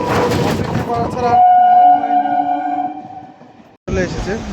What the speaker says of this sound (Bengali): চলে এসেছে বারাসাত লোকাল।